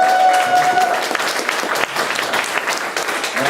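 Audience members from Kaunas at a spring conference in Vilnius break into loud, dense applause and cheering, a crowded clatter of clapping that fills the entire moment without letup.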